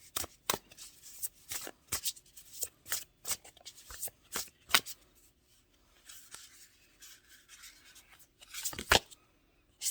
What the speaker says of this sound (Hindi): एक दो कार्ड और निकालते हैं